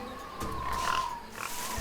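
A low wild boar grunting and snorting in Tales of Monkey Island rises and falls over a steady background hum.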